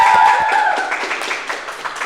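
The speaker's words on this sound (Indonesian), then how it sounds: "Tepuk tangannya lagi." Audience at an Islamic variety show applauding after the winners are announced, a dense wash of clapping that starts loud and gradually thins out as the clip goes on.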